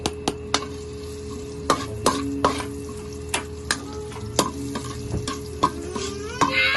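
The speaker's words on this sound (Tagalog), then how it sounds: "Gigisa na po natin. Unahin po natin ang ating sibuyas ulit." Onions sautéing in a pan for stir-fried ampalaya with pork, a close sizzle punctuated by repeated sharp spatula scrapes and knocks against the metal at an uneven rhythm, without any talking.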